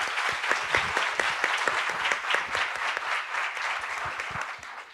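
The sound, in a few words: audience applause welcoming a speaker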